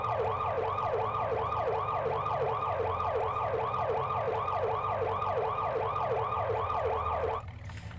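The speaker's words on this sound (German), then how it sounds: "Wir haben natürlich auch eine Sirene." Police siren on a Ford Crown Victoria mod in Farming Simulator 19 wails in a fast, steady yelp, loud and continuous for about seven seconds before cutting out abruptly, with a low engine hum underneath.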